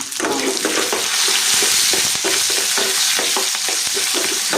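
Small onions and cumin seeds fry in hot oil, a loud continuous sizzle with crackling pops and the scrape of a stirring spoon throughout.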